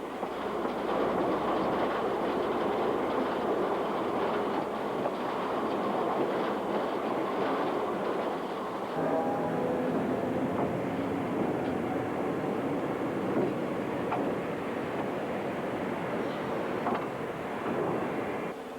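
Rumbling yard locomotive engine pulling a freight train at Alyth yards, with the steady rolling and clatter of rail cars, continuous and fairly loud, shifting in tone midway.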